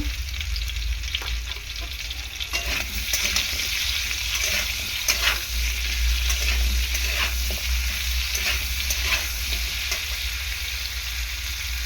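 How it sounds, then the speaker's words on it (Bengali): Potato and papaya pieces fry in hot oil, a close, steady sizzling and crackling with repeated scraping of a stirring utensil throughout and no voices. "আলুটাকে আর পেঁপেটাকে ভালো করে তেলের মধ্যে ভেজে নেব 3-4 মিনিট মতো।"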